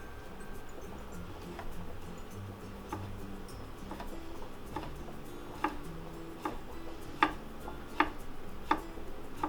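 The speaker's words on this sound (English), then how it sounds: "we're just going to thinly slice the garlic into cross section" A kitchen knife thinly slices garlic cloves crosswise on a cutting board, producing a series of sharp, evenly spaced taps that grow slightly louder and quicker toward the end over a faint room hum.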